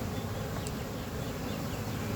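Honeybees drone in a dense, continuous buzz from an opened beehive during a kitchen-area hive inspection, close and steady with no talk.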